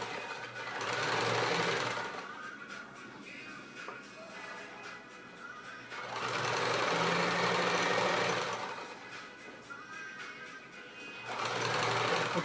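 Sewing machine running in three sustained bursts while stitching the seam of a pouf cover, with short pauses between runs; steady mechanical hum, close and fairly loud, no talking.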